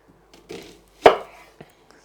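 A knife cuts a red onion finely on a board for risotto and salsa, giving a few sparse, separate chops, one sharp and close in the middle with softer knocks around it and no steady rhythm.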